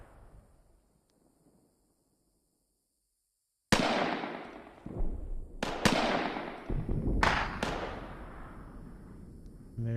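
Gunfire in a combat video game near a UN depot with a tank and enemy infantry, arriving as a series of sharp loud cracks with long ringing tails after a quiet opening, about five heavy reports spaced a second or so apart.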